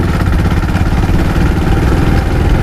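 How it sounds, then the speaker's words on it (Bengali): Engine of a Hero Honda Passion Pro motorcycle pulling in fourth gear on a road, a loud, steady rumble with close wind buffeting and no clear rise in pitch. "এই বাইকটার আমরা একটু এক্সেলারেশনটা আমরা দেখি যে এটা কেমন এক্সেলারেশনটা আসে।"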